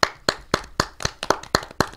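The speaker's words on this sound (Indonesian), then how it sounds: "Tepuk tangan dong." A single pair of hands claps eight times in a steady, evenly spaced rhythm, sharp and close, with nothing else heard.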